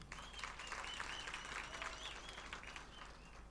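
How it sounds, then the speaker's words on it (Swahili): A crowd applauding teachers at a World Teachers' Day celebration in Nairobi, steady distant clapping with faint chirpy whistles. "tafadhali wapigie makofi"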